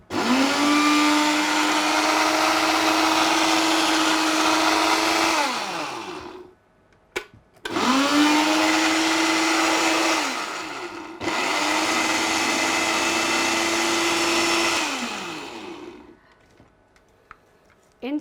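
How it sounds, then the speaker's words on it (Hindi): An electric grinder whirs loudly, grinding three ingredients into powder in three long bursts, each spinning up to a steady high whine and winding down, with short pauses and clicks between runs. "इन तीनों को अच्छी तरीके से पीस के जो है पाउडर बना लिया।"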